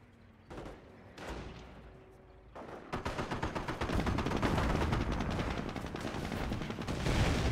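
Artillery barrage in Company of Heroes, a World War II strategy game played as the British: dense, continuous rolling booms and gunfire-like cracks build after a quieter start and stay loud and sustained to the end.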